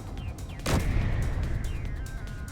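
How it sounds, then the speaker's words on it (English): An assault cannon fires in Space Engineers as one heavy, close boom that rings out over a steady mechanical hum, with faint thuds in the background. "Maybe we'll actually hit something with an assault cannon this time."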